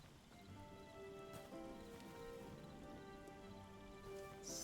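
Steady soft rain pattering over a swamp area in the video game Hytale, heard faintly and continuously beneath sustained tonal game music.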